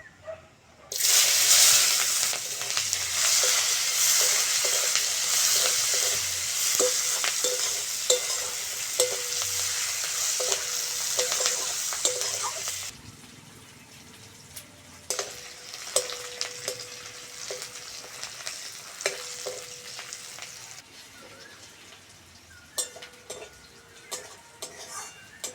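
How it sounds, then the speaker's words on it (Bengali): Chopped onion and green chilli sizzle loudly in leftover fish-frying oil while a spatula stirs and scrapes the pan, the hiss dropping partway through to a quieter fry with steady clinks of stirring. "পেঁয়াজ আর কাঁচা লঙ্কাটা ভালো করে ভেজে নিয়েছি"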